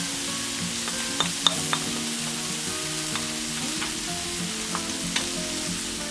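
Garlic cloves, about ten of them, sizzle in hot oil in a paella pan while chicken and mushroom paella is cooked, making a steady close frying hiss with a few sharp utensil clinks and taps scattered through it.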